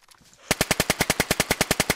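In the survival game DayZ, a fast automatic burst rings out after a brief quiet lead-in, with about fifteen loud, evenly spaced shots close by.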